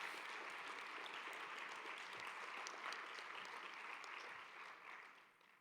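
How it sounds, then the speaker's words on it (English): A conference keynote audience gives steady, dense applause that holds evenly and then fades toward the end. The sound is fairly distant and quiet. "let's give a round of applause to Mac."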